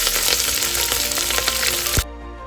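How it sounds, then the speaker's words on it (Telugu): Green chillies and onions frying in hot oil, a steady loud crackling sizzle with scattered pops that cuts off abruptly near the end. "ఇప్పుడు గ్రీన్ చిల్లీస్ వేసుకుంటున్నాను అవి కొంచెం చటపట్లాడాక ఆనియన్స్ వేసుకుంటున్నాను"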